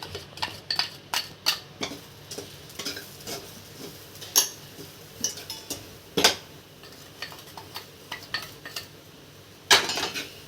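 Coconut, cardamom powder and sugar are stirred in a pan for barfi, making a quick run of close metallic scrapes and taps of a spoon against the pan, irregular and fairly quiet, with no voices.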